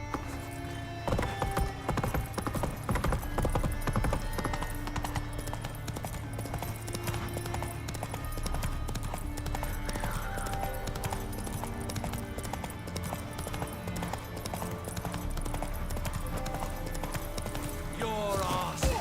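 Galloping horse hooves from The Witcher 3: Wild Hunt, Heart of Stone expansion, a steady clip-clop with an occasional whinny, heard over continuous game music and ambience.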